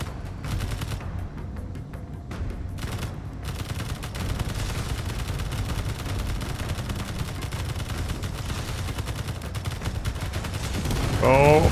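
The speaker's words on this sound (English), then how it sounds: "Oh, this has twin rocket launchers on the top." Rocket launchers and gunfire in the space combat game Space Engineers, a dense, continuous barrage of shots and blasts filling the scene, growing louder toward the end, with people talking over it.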